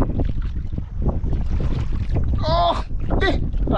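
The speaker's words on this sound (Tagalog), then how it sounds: "Tunog-tunog lang yung bangka." A boat motor drones steadily on open water with wind buffeting the microphone, while brief high whistling sweeps cut through near the end.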